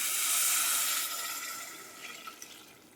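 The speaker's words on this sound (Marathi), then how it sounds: "आता हे उकळलेलं आत पाणी ओतलं" A steady rush of boiled water being poured into a pot, loud at first and gradually tapering off, with no voices.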